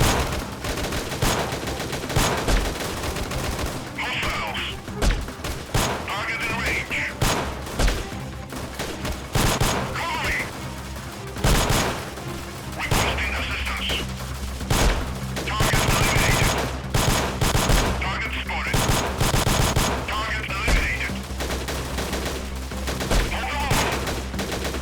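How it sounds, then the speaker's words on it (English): Rapid, loud gunfire in the Freeman Guerrilla Warfare game, with sniper rifle shots among dense bursts and volleys that continue through the whole stretch, mixed with battle noise. "I'm going to take them out pretty quickly with my sniper rifle, hopefully"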